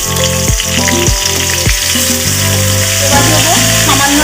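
Cauliflower pieces drop into hot mustard oil with turmeric in a kadai, bursting into a loud, dense crackling sizzle, with a few thuds as the pieces land, no talk.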